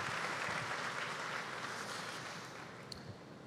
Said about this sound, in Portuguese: Palmas para Manolo